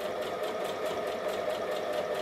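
A sewing machine stitches close along the zipper teeth of a dress made from Simplicity pattern 1801, its steady motor hum and fast needle rhythm running continuously and close by, with no voices.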